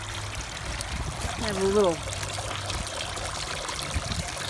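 Water trickles through holes in a bucket sitting in a banjo pan, a steady soft splashing and dribbling beneath a person talking.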